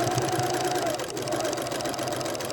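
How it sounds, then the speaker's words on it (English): A sewing machine runs steadily while edge stitching fabric for a star ornament, its rapid mechanical chatter close and continuous with no voices. "I'm going to stitch this all the way out to the point."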